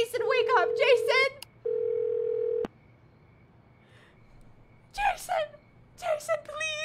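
An in-game phone dial tone sounds in the game Do Not Feed the Monkeys, two steady electronic tones that cut off abruptly, followed by a quiet hum while a voice talks over the start and end.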